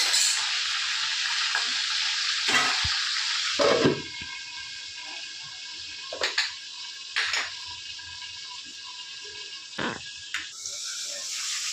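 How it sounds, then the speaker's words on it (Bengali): Fish head frying in a covered pan gives a steady, loud hiss of oil throughout, broken by a few sharp clanks of the lid and utensil, without talk. "এবার আমি একটা ঢাকনা দিয়ে ভাজার জন্য ছেড়ে দেবো"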